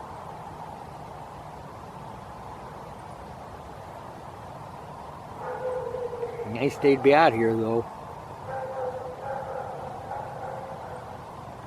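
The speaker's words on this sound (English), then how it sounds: "Dog's barking again." A dog barks in a short burst of several yelps from a few houses away over a hill in a wooded grove in Sitka, Alaska, moderately loud, with someone talking nearby before and after.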